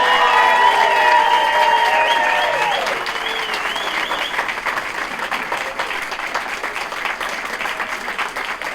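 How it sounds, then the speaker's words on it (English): Audience applause at a State of the District address: loud, dense clapping with cheers and whoops at the start, gradually easing to a steadier, quieter round of clapping. "applause, hand of applause."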